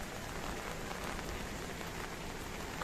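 Heavy monsoon downpour in the Konkan region near Devgad, a dense, steady hiss of rain drumming on surfaces that fills the whole stretch with no voices.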